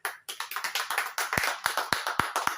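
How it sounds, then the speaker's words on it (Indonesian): Hands clap in a quick, fairly even run of sharp slaps, with a few heavier claps near the end, loud and close with no talk over them. The applause follows a call to applaud the new chairman of a football club during a podcast. "Boleh tepuk tangan."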